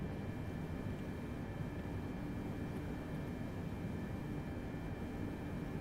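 A Boeing 747-8F taxis down a 4,000-metre runway in a flight simulator, its engines a steady, dense roar with a high whine running through it, loud and unbroken throughout.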